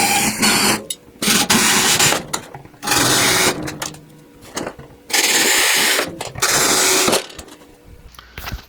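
A power drill runs in four sustained bursts with short pauses between them, drilling out old rivets and boring pilot holes, loud and close with no talk.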